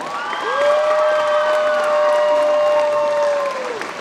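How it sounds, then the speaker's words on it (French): Clapping from the audience at a cosplay contest in Lorient runs under one long, held whistle-like cry that lasts about three seconds, then fades as the applause tails off. "On peut encore l'applaudir, s'il vous plaît, très très très fort."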